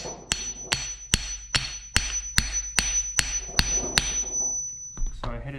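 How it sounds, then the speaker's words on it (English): A hammer taps the piston of an old, rusty Datsun brake caliper to free it: about ten sharp metallic strikes in an even rhythm, each ringing briefly, close and loud. "I gotta break it loose by hitting the piston down."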